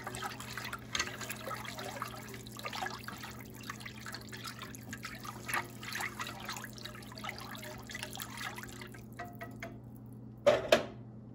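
Milk and heavy cream being whisked for creamed corn, a soft continuous swishing and light tapping against the bowl, close and quiet, ending in a couple of sharper clinks.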